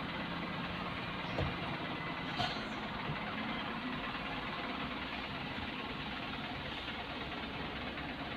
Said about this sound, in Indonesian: Truk Pertamina naik nih.